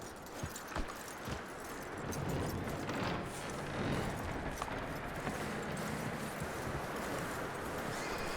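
Horse hooves clip-clop in the Red Dead Redemption 2 video game, a few sharp, fairly close strikes early on, then fainter steps under a steady wash of outdoor ambience.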